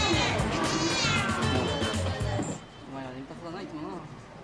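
A cat meows at a cat café in Tokyo, with several short, fairly close calls heard under continuous narration and a busy background.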